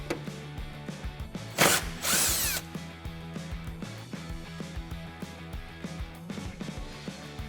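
A power tool spinning out headlight bolts on a 2017-2019 Ford Super Duty truck makes one short, loud whirring burst near the middle, surrounded by softer close clicks and handling knocks.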